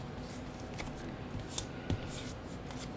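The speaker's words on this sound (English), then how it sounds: "So I cut these frames out" Scissors snip paper photo frames out of a sheet in a few quiet, close cuts among faint rustling, with no talking.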